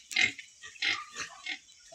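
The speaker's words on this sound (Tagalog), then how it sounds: "Ilang mga baboy guys." Pigs on a farm grunt in a few short, close bursts, with quiet gaps between each snort.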